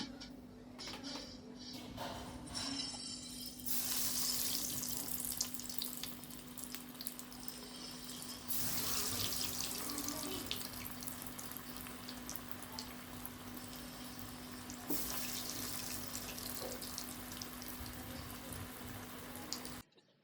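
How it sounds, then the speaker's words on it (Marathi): Cheese balls are dropped one by one into oil heated over a medium flame, giving a soft, continuous sizzle and bubbling that swells in a few bursts, with a faint steady hum underneath. "एक एक करून आपण तेलामध्ये हे चीज बॉल सोडून घेऊया"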